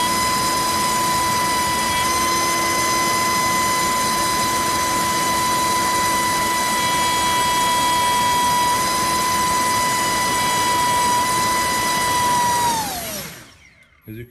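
A drone motor spins a Racekraft 5051 propeller on a thrust test bench with a brand-new battery. It gives a loud, steady, close high-pitched whine that holds for about thirteen seconds, then winds down quickly.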